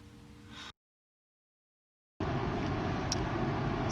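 Steady road rumble from inside a moving electric car on a motorway, interrupted by a brief dead-silent gap before the constant engine and tyre noise returns.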